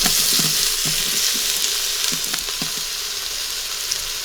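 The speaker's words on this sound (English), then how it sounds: "we are going to blacken the onion and the ginger" Onion and ginger frying in oil at the bottom of a pot give a steady, fairly loud sizzle with a few soft knocks and stirring clicks early on, easing slightly toward the end.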